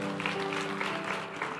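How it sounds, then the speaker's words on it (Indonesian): Congregation clapping in a church service, a short steady burst of applause, fairly close and full, with a low hum underneath. "Tepuk tangan bagi Tuhan."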